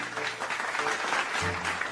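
A short burst of enthusiastic clapping from a small crowd, steady and fairly close, with no talking over it.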